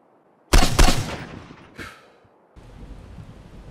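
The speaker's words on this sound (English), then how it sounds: "Lots of gunshots." A couple of sharp gunshots crack close by in the video game Miscreated, followed by a brief whizzing tail, then a quieter steady background hiss takes over.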